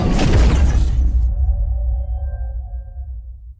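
Designed effects for an animated orb approaching scene: a dense, shattering whoosh burst lasting about a second cuts off abruptly, leaving a low rumble and sustained ringing tones that slowly fade.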